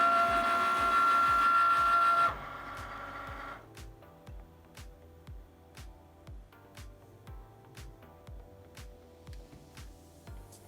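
A Cricut cutting machine cuts a design for Minnie-inspired candy apples: a steady, close, rhythmic series of mechanical ticks and motor pulses, preceded by a brief louder tonal stretch at the start.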